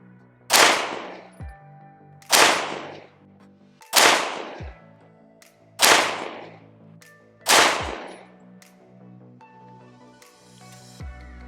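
Five sharp, loud shots from a Grand Power Stribog SP9A1 9mm pistol-caliber carbine ring out outdoors, each about a second and a half apart and followed by a short ringing decay, with no talking.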